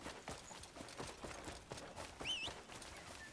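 Horse hooves clip-clopping in the video game Crimson Desert, a faint, steady run of soft hoof beats with a brief bird-like chirp partway through.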